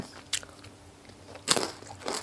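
Close, crisp bites and chewing of a meal of pounded long-bean salad with grilled pork, with three distinct crunchy bursts separated by quieter chewing.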